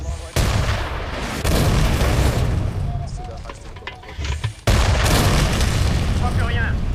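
Gunfire and explosions from a war film set in the desert. Heavy booming blasts and sustained firing stay loud and close throughout, with voices shouting over the din.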